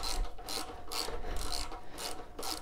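A 15 mm ratchet loosens exhaust mounting bolts on a 2019 Harley-Davidson Road King during a slip-on muffler swap, giving five or six quick bursts of close, rasping clicks in a steady rhythm with short pauses between strokes.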